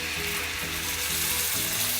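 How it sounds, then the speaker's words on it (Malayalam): Water poured into a hot pan of vermicelli upma with sautéed onions brings a continuous, even frying sizzle that stays close and steady throughout, with no speech. "ഇനി നമുക്ക് ആവശ്യത്തിനുള്ള വെള്ളം ഒഴിച്ച് കൊടുക്കാം"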